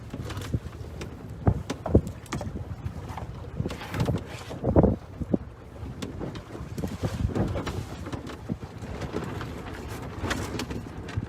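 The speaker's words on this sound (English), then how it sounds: "This wind is tricky, I'll tell you what." A sailboat moving under stiff wind, with steady wind rushing and buffeting the microphone over lapping water and creaking gear, fairly loud and continuous with a few stronger gusts.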